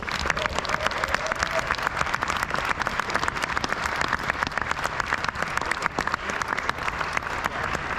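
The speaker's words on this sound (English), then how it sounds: "can we get a round of applause, please, for Małgorzata Kaniewska." Spectators at the Snooker Players Championship applaud a referee being introduced on table two, a steady, moderately distant round of clapping from a crowd in the arena, sustained evenly throughout.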